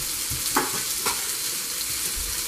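Fish frying in a little oil in a pan, a loud continuous sizzle with a couple of brief crackling bursts, close up and with no talking.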